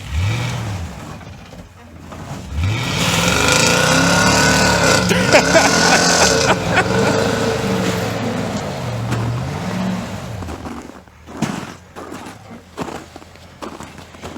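A vehicle stuck on a frozen lake revs its engine as its wheels spin on the ice, with a loud rising and falling whine and repeated surges, then scattered thuds and footsteps afterward.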